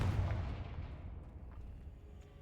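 A fiery spell blast from the Hogwarts Legacy video game booms loudly at the start, then fades into a rumbling decay.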